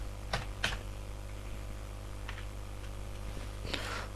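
Quick bursts of typing on a computer keyboard, a few separated clusters of keystrokes over a steady low hum, fairly faint and close, with no talking.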